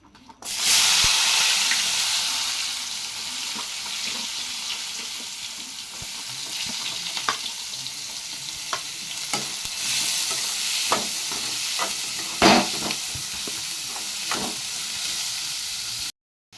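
Onions and tomatoes dropped into oil left from frying eggs for an egg curry hiss and sizzle loudly at first, then settle into a steady fry. Scattered scraping stirs and clicks sound close by, with no talk.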